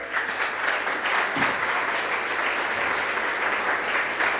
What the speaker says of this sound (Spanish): Un fuerte aplauso para el Padre.